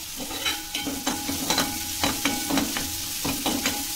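Onion sautés lightly in a hot pan, a continuous sizzle broken by regular scraping knocks of a spatula as it is stirred.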